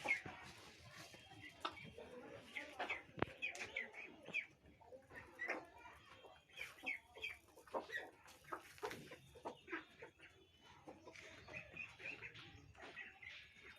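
Chickens cluck repeatedly and close by while pecking at rice powder feed, in short irregular bursts with scattered louder calls and faint background noise between them.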